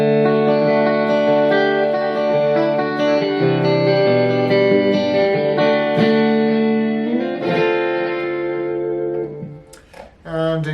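A Peavey Raptor electric guitar, an early Vietnam-made model, rings out on its centre pickup with sustained, effect-laden chords and notes. The playing is loud and continuous, ending in a few choppy strums.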